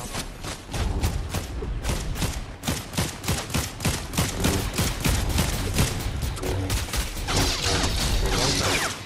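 Dense, rapid gunfire from the Star Wars Battlefront 2 video game, with overlapping shots and thuds crackling loudly and continuously for the whole stretch.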